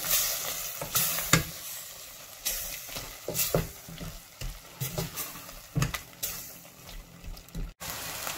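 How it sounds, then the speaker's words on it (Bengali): Shrimps fry over medium-low heat in a pan with coriander and paprika powder, giving a close, crackling sizzle with irregular bursts of stirring and scraping. "আমি চিংড়িগুলোকে আরও দুই থেকে তিন মিনিট ভাজবো মিডিয়াম টু লো হিটে"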